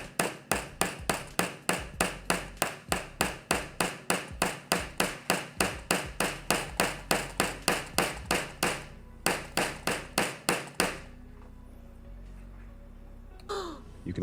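A Xiaomi Redmi Note 15 Pro+ phone hammered against a hard surface, rapid sharp knocks repeating steadily about three per second for roughly eleven seconds, then stopping into quiet.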